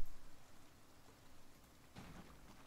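Rain falls in the survival video game Project Zomboid, a soft, continuous hiss of drops on surfaces, fairly faint and steady with a slight swell near the end.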